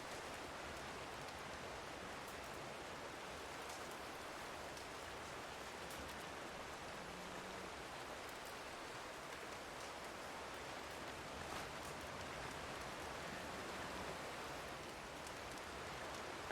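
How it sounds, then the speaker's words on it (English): Rain falling in Red Dead Redemption 2 on the WildRP server, a soft steady hiss of drops that stays faint and even throughout, with no talking over it. "The rain's quite nice with the fire."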